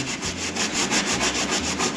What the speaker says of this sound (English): I've got a Scotch pad there and some various grade sanding sheets.